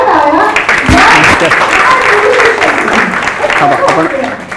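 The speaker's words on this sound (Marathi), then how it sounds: "आधी दोघांनी उभेला जोरदार टाळ्या" Loud applause from an audience at a history talk gathering, dense clapping filling the whole stretch with a brief low thump near the start and some voices mixed in underneath.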